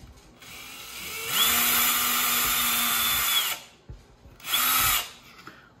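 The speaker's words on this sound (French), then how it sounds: "On va percer à ce niveau-là. Comme ça on pourra sortir nos 8 brins de fil." A small power drill bores a small hole in a Bedini coil bobbin, whining steadily for about two seconds, stopping, then running again in a shorter burst, close and loud.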